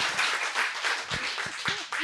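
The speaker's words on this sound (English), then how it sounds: "You want to give her a clap?" Audience clapping at a book event hosted by Love Books for South African poet Malika Ndlovu: a steady, moderately loud patter of many hands over two seconds, with a few faint voice fragments beneath.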